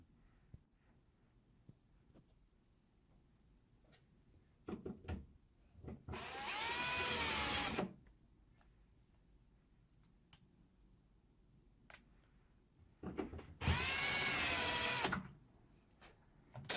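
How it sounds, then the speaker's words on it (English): A power drill fitted with a centering bit bores into plywood in two separate bursts of about two seconds each, a loud, high whirring grind against a quiet room with faint handling knocks between. "This is a centering drill bit."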